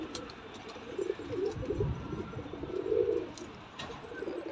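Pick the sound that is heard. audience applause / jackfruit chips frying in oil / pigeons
pigeons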